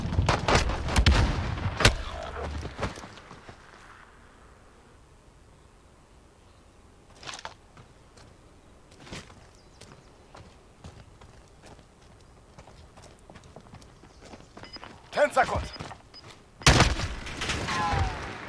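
Gunfire from a burst-fire gun in a video game: loud clustered shots at the start, sparse isolated reports through the middle, and another sharp volley near the end, with quiet gaps between.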